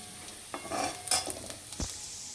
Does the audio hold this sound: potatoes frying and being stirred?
yes